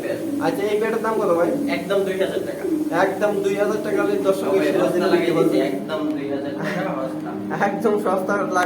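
Pigeons coo at a pigeon market selling racing and show birds, soft repeated bird calls close by under nearly constant talk from people.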